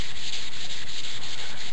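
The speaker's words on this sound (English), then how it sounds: "Now the prep is 400 grit wet sand," Steady, close wet sanding with 400 grit sandpaper during paint prep on a flag piece, a continuous hissing rub with even strokes and no talking.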